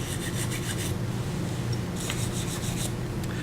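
Mating surfaces of lathe chuck slots being cleaned, a steady rasping, rubbing scrape with short bursts of stroking, close and moderately quiet, ending in a small knock.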